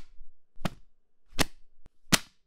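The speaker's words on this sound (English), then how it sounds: "the sound of a book hitting the floor" A book dropped onto the floor as a snare-drum substitute: three sharp, separate thuds about three-quarters of a second apart, close and dry, with a small tick in between.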